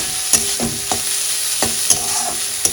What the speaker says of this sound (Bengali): এরপর খানিকটা নেড়ে নেব মধ্যে একটু ঘি দেবো জলটা মরুক